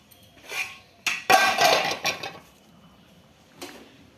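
A metal pot clanks and scrapes as it is set down to cook rice in a home kitchen, a few short knocks and rattles with quiet pauses between them.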